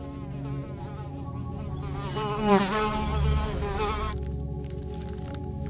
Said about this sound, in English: The victim, a fly, which finds the colour and nectar irresistible.